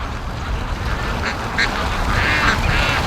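Free-range ducks quack as they return home to their pen in strong wind, several short calls standing out over a steady rush of wind noise.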